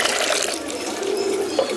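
Water is poured into a drinking dish for pigeons, about one and a half litres, a continuous splashing trickle with faint bird sounds and a voice murmuring beneath it.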